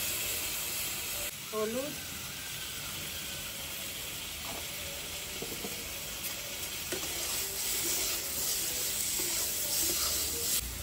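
Potatoes and salt hitting hot oil in a pan for a Ganga chapila-khoira fish curry set up a steady, close sizzle and hiss that runs throughout, with faint stirring clinks and a brief spoken word.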